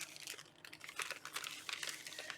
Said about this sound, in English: So let's pop them into these wonderful quality plastic bags.